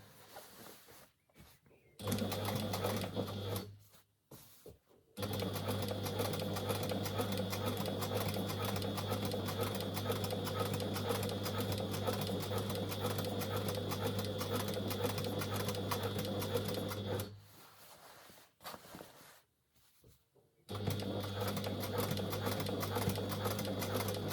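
Sewing machine stitching a jacket seam, a steady loud mechanical whir running for long stretches, with short pauses where the stitching stops and restarts.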